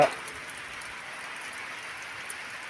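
A light drizzle of rain falls on stones in Kotga village, Chincholi taluk, Kalaburagi district, in August, producing a faint, even patter and hiss that stays steady throughout.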